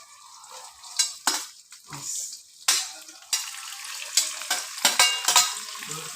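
Pieces of pirandai, adamant creeper, fry in hot oil, bursts of crackling sizzle coming in uneven waves with spoon clinks and scraping against the pan, loud and close with quiet gaps between.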